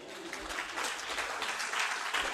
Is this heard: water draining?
no